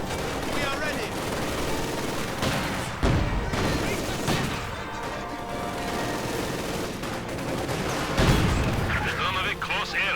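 T-34 tank firing on Panzer Grenadier infantry in a real-time strategy battle, with dense bursts of gunfire and heavy shots throughout, sharp louder blasts near three and eight seconds, under game voice lines and commentary.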